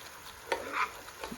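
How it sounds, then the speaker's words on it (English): Toffee sauce being stirred in a pan on the stove, giving short scraping swishes at a soft, close level with faint bubbling underneath and no talking. "I'm going to give it a little bit of stir"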